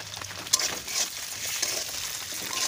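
Oil sizzling in a hot pan for a hilsa fish head and taro leaf dish, a steady close hiss with a couple of sharp spatters, no voices.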